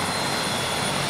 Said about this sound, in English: The helicopter getting ready to take off.